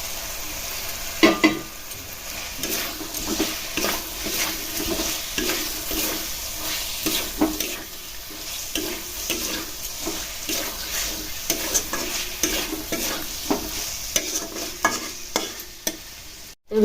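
Eggs fry with masala in a pan, and a spatula scrapes and clacks against it in a steady, repeated stirring rhythm over a continuous close sizzle.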